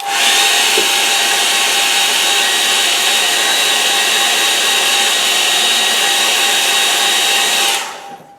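A hair dryer blows steadily and loudly across a hake-brush watercolour painting, a continuous whirring roar with a faint whine that runs for nearly eight seconds before switching off.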